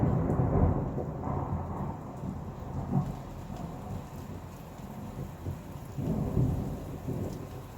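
Ambient thunderstorm sound effect: steady rain patters on surfaces while low rolls of thunder swell and fade several times, a continuous full wash with no voices.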